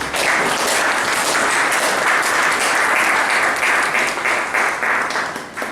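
Applause for a member of an association at its general assembly, loud continuous clapping from a crowd that holds steady throughout.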